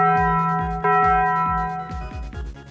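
The bell of awakening in Dark Souls rings out with rich sustained metallic tones and repeated low thudding strikes, loud and close with lingering resonance.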